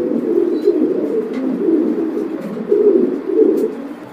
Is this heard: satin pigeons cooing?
yes